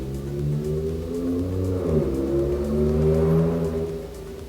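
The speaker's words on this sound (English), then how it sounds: "sorry if there's any cars going by because I have windows open" Cars pass by outside an open window, a steady mid-level engine whir that swells and shifts in pitch as vehicles go by, with no talking over it.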